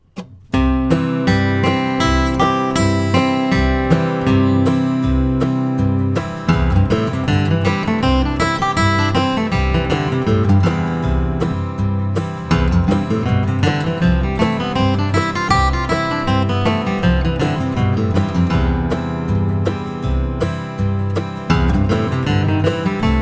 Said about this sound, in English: play the 3 associated scale patterns along with a strum machine backing track